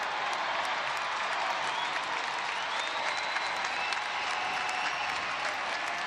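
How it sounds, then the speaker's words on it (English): Brickyard Battalion supporters applaud at an Indy Eleven soccer match against Bethlehem Steel FC, a dense, sustained wash of stadium clapping and crowd noise that holds steady throughout. "to the applause of the Brickyard Battalion"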